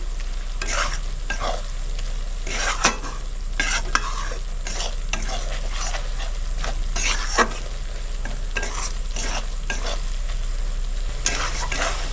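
Spices for chicken kosha fry in oil and are stirred repeatedly, a steady sizzle broken by frequent sharp scraping strokes of a spatula against the pan, close and uninterrupted.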